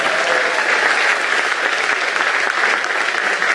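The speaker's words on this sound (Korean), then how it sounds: "박수 한번 주시면 감사하겠습니다" A church congregation gives steady, dense applause at close range, a continuous wash of clapping from many hands that holds level from start to finish with no voices breaking through.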